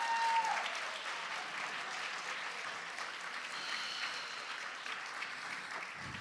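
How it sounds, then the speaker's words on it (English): A crowd at a book launch and community talk applauds a speaker with steady, even clapping. It holds at a moderate level throughout, with a brief voice near the start and a low thump at the end. "Can we give a round of applause for Will Prosper"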